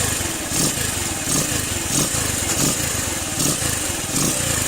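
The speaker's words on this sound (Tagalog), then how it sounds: "Parang brand new na ulit yung andar ng motor." Keeway Cafe Racer 152 motorcycle single-cylinder engine running smoothly after valve clearance maintenance, a close steady idle with a regular thumping pulse and no voices.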